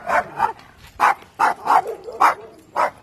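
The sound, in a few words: dogs barking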